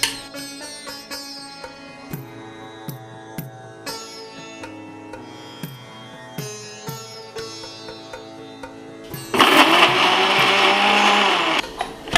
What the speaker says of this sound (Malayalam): ഇതൊക്കെ കൂടി ഇനി ഇതേ മിക്സിയിലിട്ട് നമ്മൾ ഗ്രൈൻഡ് ചെയ്തെടുക്കും